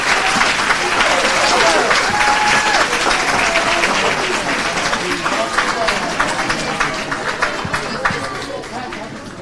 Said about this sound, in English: Can we give Anai another round of applause?